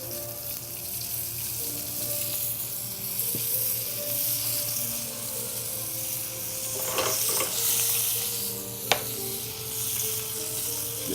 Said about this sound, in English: As you can see, the fish is sizzling.